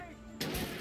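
Gunfire erupts in the video game Alan Wake, a dense burst of shots cutting in suddenly after a quiet moment and continuing loud and continuous.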